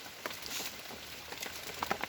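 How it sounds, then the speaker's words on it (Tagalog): Heavy rain falls in a forest in a continuous hiss, with scattered drops pattering nearby. "malakas na ang ulan"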